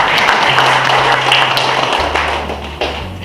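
Audience applause at a police handover ceremony for the Bekasi Utara sector, a broad wash of clapping from a crowd that holds steady for about three seconds, with a low hum running underneath.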